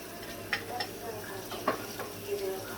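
Garlic and onion fry in a pan while a utensil stirs them, giving a steady soft sizzle broken by a few sharp scraping clinks, close by with no speech.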